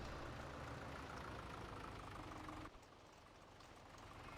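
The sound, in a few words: John Deere tractor engine straining, Farming Simulator 17 video game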